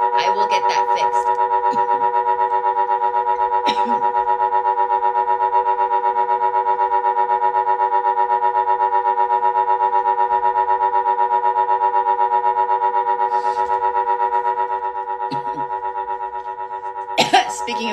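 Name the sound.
vagus nerve frequency tone played live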